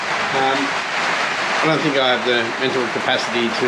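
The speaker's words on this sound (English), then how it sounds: "Okay, sorry about the rain." Steady rain keeps up a dense, even hiss in the background while someone talks over it.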